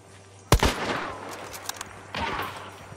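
A single loud gunshot in the Hunt: Showdown swamp map rings out close with a sharp crack and decaying tail, followed by scattered smaller pops and a second, more distant shot near the end.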